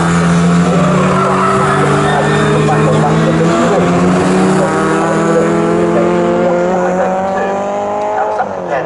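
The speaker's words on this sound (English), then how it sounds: "Mike Look in the BMW just there in third place" Pre-1966 and pre-1983 Group 1 touring cars, a BMW among them, race at Snetterton, engines droning at high revs with shifting pitch and squealing tyres, loud and steady under a commentator's voice.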